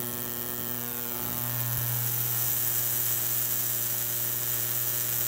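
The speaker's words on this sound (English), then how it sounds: "The arc seems a lot more focused, even at low power" A 10 kV DC electric arc runs at low power with a steady, loud buzzing hiss and an underlying tonal hum. It continues without break for the whole stretch, with no voices.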